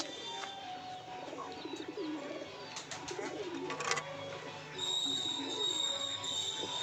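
Pet pigeons, including fantail pigeons, cooing and calling in a home loft, with soft, steady bird sounds over a low background hum and a thin high tone joining near the end.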